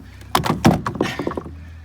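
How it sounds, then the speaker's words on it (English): Bolts are knocked into a floating pontoon during its launch after winter. A cluster of several quick, close thuds and knocks comes in an uneven burst over a low background hum, with no talking. "Knock these bolts in."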